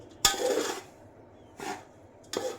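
Ground coconut and peanut powder stirred in a pan with the flame off, three separate metallic scraping strokes of a spoon against the pan, close and moderately loud with quiet gaps between.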